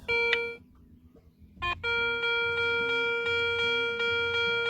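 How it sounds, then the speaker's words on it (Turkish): A metal detector chimes a brief bell-like target tone, pauses, then sounds a steady ringing tone that pulses in a regular rhythm, close and clear, detecting through stacked bricks at about 30 centimetres. "Çan sesi devam ediyor."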